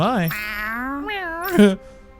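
A cat named Zari in the video game Tales of Arise gives a few clear, close meows, rising and falling in pitch, with a short pause between calls and a louder final mew.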